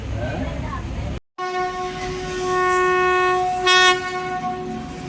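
Passenger train from Palakkad to Ernakulam, heard from inside with a steady rumble, a brief dropout, then a long loud horn blast with a sharp peak near the end while people talk nearby.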